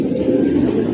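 A red pigeon gives a short, low, close-up coo that lasts about a second.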